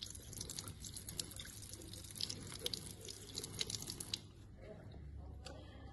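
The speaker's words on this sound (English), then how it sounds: "I pour off the stain by rinsing under a stream of water" A stream of running water rinses stain off a microscope slide in a lab, a soft, fairly faint trickle and splash with a few small taps, ending abruptly.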